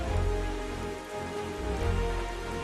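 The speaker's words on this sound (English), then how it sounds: "This rain is terrible." Steady, dense rain pours down in the open sea of The Legend of Zelda: Wind Waker HD, a continuous even hiss with no voices, swelling slightly near the start and end.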